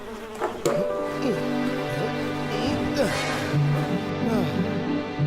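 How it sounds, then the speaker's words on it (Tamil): Bees fly and buzz near a beehive, a droning hum whose pitch wavers up and down in overlapping glides, moderately loud and continuous, mixed with other busy background sound. "தேனீக்கள் பறக்கிறத பார்த்தா பக்கத்துல தான் எங்கேயோ தேன்கூடு இருக்கணும்னு நினைக்கிறேன்"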